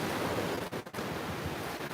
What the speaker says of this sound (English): There's some massive waves out there now.